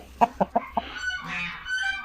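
A young rooster around eight or nine months old gives a few quick clucks, then a thin, wavering first-year crow, close by in a village coop.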